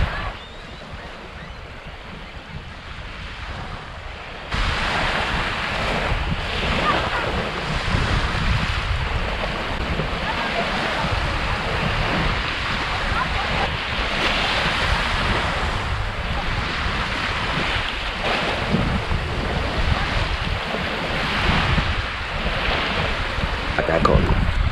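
Ocean surf rolling onto red-sand Cavendish Beach on Prince Edward Island, a loud continuous wash of waves mixed with heavy wind buffeting the microphone, steady throughout after a quieter opening few seconds.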